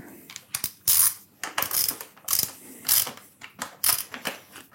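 Screws on a motorcycle front fork tightened with a ratchet, giving close, loud bursts of rapid clicking in a stop-start rhythm with short pauses between strokes.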